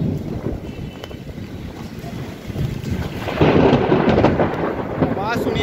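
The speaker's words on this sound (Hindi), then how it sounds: "कितनी तेज बादल गरज रहे हैं" Heavy thunder rumbles and rolls in Jalandhar, growing louder partway through, over a steady wash of rain and strong wind during a hailstorm.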